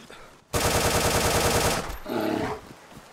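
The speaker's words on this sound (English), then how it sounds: "we're getting shot at!" Loud automatic gunfire from the DayZ game bursts in as a long, fast rattling volley, with a second shorter burst right after it.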